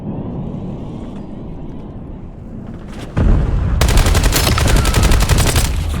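Video game gunfire from Call of Duty Black Ops 7 erupts as loud, rapid automatic bursts after a quieter stretch of ambient battle noise.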